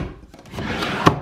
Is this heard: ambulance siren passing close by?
no